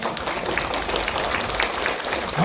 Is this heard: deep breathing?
no